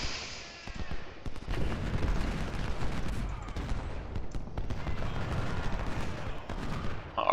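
Artillery fire in Ultimate General: Civil War, a river-crossing battle, rolls as a dense continuous barrage of booms and gunfire over about seven seconds.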